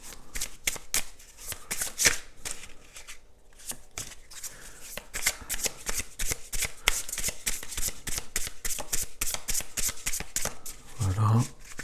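Tarot cards are shuffled by hand in a rapid, continuous riffling flutter of crisp papery flicks, close and steady for around eleven seconds, with a voice speaking briefly alongside.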